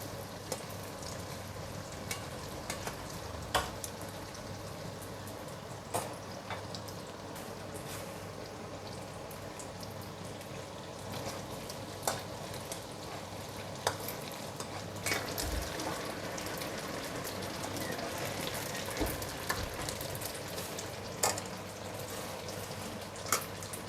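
Small pieces of mee sua noodles sizzle steadily in hot oil in a pan while being stirred and turned, with occasional sharp scrapes and clicks of the utensil against the pan.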